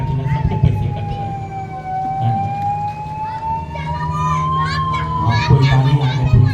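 A police car siren wails with a slow, rising and falling tone in a village, fairly near and steady throughout, with people talking over it.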